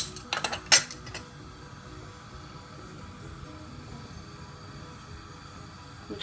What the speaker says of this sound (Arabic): دابا غادي نوجدوا واحد مقله فيها الزيت